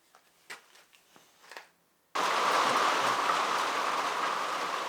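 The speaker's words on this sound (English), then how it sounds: "Raining again." Rain sets in on a boat under repair, starting abruptly as a loud, steady, dense hiss of falling drops that continues without a break after a few quieter knocks and rustles.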